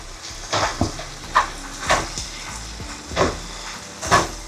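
Pork sisig mince mixed with mayonnaise is stirred in a frying pan: about six distinct spatula scrapes land at an uneven rhythm over a soft, steady sizzle, close by and fairly loud.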